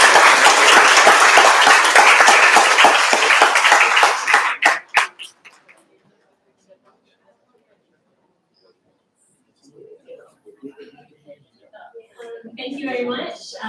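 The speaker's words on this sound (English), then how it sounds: "let us give a round of applause for our" Audience applause for distinguished speakers at a live health hub event, loud dense clapping for about four seconds that thins into a few scattered claps, followed by near silence and then faint talking.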